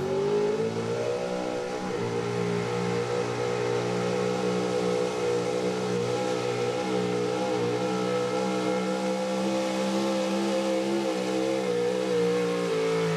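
A 1985 Chevy K30 gas 4x4 pulling truck roars at high RPM with tires spinning at a pulling event, a loud sustained engine drone with wavering pitch that holds steady for the whole stretch.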